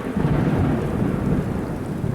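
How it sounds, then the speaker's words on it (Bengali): A loud, close thunder crash rolls through a stormy night at a roadside tea stall in a cartoon horror story, over a dense wash of heavy rain. The deep rumble stays steady and strong through the whole clip, with no speech. "তখনই কাছে পিঠে কোথাও ভীষণ জোরে বাজ পড়ল"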